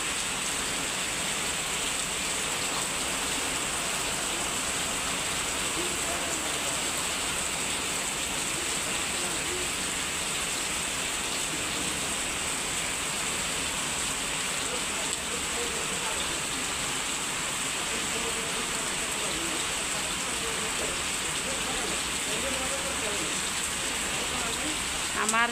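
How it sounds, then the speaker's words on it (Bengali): Heavy rain pours steadily onto leaves and plants outdoors, a dense, even hiss of drops splashing across surfaces, sustained and unbroken for the whole stretch with no talk. "অনেক বৃষ্টি পড়তেছে"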